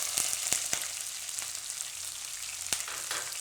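Green chillies going into hot oil with mustard seeds for mixed vegetable poha: a steady bright sizzle punctuated by several sharp, scattered pops, close and fairly quiet.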